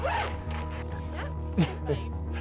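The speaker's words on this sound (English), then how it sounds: "We've got a zip there. A zip on this side." A zip on a motorhome awning bag is pulled open in a few quick rasping strokes, heard close up with people talking over it.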